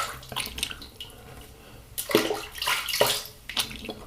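Splashing water as shaving cream is rinsed off a face, irregular bursts of splashing and dripping at close range from a running tap.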